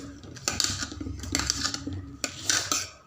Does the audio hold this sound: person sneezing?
no